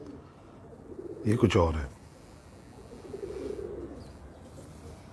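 Top-class high flyer pigeons from Karachi give a soft, low coo against quiet background noise, and someone speaks briefly over it.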